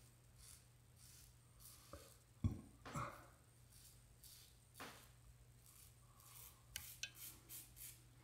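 A razor glides over stubble with a light touch, giving faint, short scraping strokes at irregular intervals, very close and quiet, with no talking.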